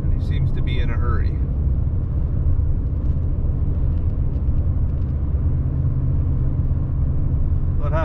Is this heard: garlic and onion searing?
no